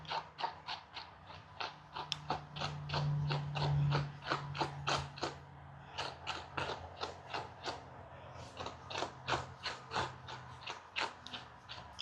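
A comb rasps through tangled Coton de Tulear fur in quick, rhythmic strokes, a steady series of scratchy pulls heard up close with no talking.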